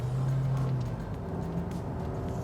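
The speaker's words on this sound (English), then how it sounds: "The Camry now drives really nicely." A 2023 Toyota Camry hums along on the road in Malaysia, a steady low engine and road drone heard from inside the cabin, with no talking.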